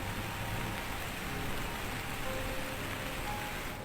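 Steady rain falls on a forest campsite, a dense, even hiss of drops on surfaces that holds constant throughout with no voices or thunder.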